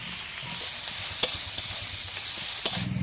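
Garlic sizzles and fries in a pan while being stirred, making a steady close crackle with a few sharp scrapes of the utensil against the pan and a clatter at the end.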